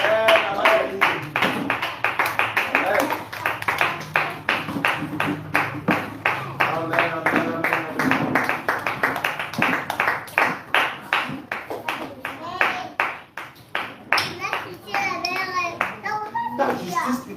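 Church congregation clapping together to acclaim the Lord, a steady rhythmic beat of many hands that continues throughout, with voices calling out over it.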